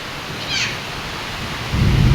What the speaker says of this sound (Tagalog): Ang lakas kasi po ng ulan talaga.